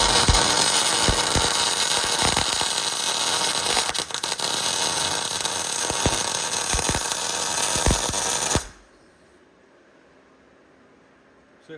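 Steel welded straight through primer during tank fabrication, a steady loud crackling hiss with sharp pops that runs for about eight and a half seconds, then cuts off abruptly into near silence.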